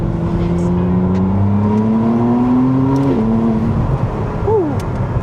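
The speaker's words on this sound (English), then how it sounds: "the changes that McLaren has made to this exhaust for the MY25 models, including this Spider, is a lot better. It sounds a lot better." 2025 McLaren Artura Spider hybrid V6 exhaust revving loudly and close by, with a crisp, rising engine note climbing through the revs before a brief dip and a short final blip.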